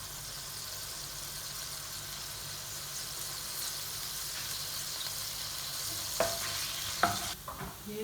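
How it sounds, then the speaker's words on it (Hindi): Chopped garlic frying steadily in a pan with oil, a continuous hiss running throughout, joined near the end by a few sharp scrapes and clinks from stirring. "चॉप लहसुन डाल के इसको हल्का सा फ्राई करेंगे हम लोग"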